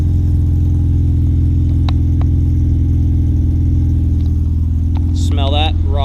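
Honda Civic with a K20 engine on cold start, running a custom 3-inch exhaust and MagnaFlow 3-inch race muffler: a loud, steady low idle drone fills the whole stretch, with a few clicks and a brief voice near the end.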